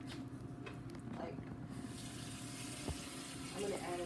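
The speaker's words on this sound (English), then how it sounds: "then you're gonna put the rest of your water in" Water running steadily from a tap into a pot while making Louisiana Cajun-style chicken sausage gumbo, a continuous close splash and rush that stays constant throughout.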